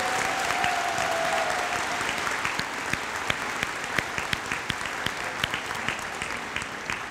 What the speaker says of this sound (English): Can we please give people a round of applause?